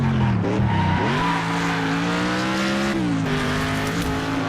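A race car engine in the video game Next Car Game drones loudly and steadily, its pitch dipping and rising as the throttle shifts, with a rough tire-skid texture underneath.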